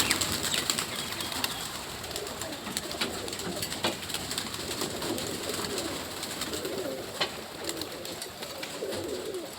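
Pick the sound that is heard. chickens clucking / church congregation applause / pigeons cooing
pigeons cooing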